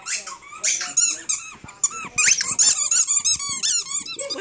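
An Alaskan Malamute plays with a loud squeaky Christmas toy, producing rapid, shrill squeaks in bursts with brief pauses, close and loud throughout, mixed with some snuffling.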